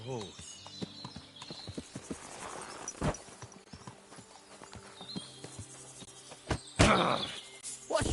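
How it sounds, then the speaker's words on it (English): Horse hooves clip-clop at a steady walking rhythm in the video game Kingdom Come: Deliverance II, with a horse snorting and a voice speaking over it. "Beautiful horse."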